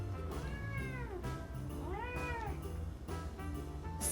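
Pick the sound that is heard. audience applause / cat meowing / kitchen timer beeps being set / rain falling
cat meowing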